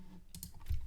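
A few quick keystrokes tapped on a computer keyboard while entering a zip code, light close clicks in a short burst with a soft thump at the end.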